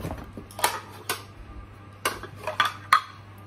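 Two lidded bowls from a gift dinnerware set being picked up and set down, giving a few separate sharp clinks and taps of ceramic or glass, close and fairly quiet with short pauses between.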